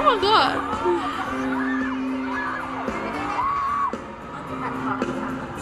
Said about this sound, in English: that fan screaming